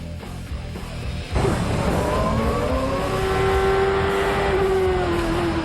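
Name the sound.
Champ Car race cars racing on track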